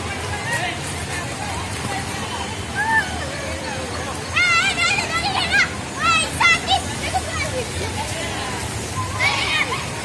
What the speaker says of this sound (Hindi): छोटा वाटरफॉल है जहाँ पे छोटे बच्चे एंजॉय करते हैं